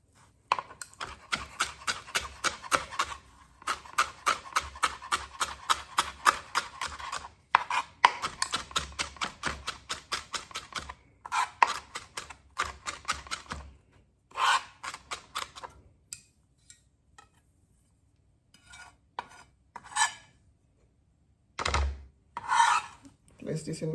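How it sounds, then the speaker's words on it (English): Knife chopping fresh parsley on a cutting board: rapid, steady runs of crisp taps that are close and distinct, broken by short pauses, then sparser scattered chops and scraping toward the end, with no talking. "I'm going to go ahead and chop up my parsley."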